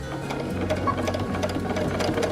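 Sewing machine stitching pale yellow fabric along a gentle curve for a mock cathedral windows table topper, a fast, even mechanical whirr and rapid clicking of the needle, close and continuous.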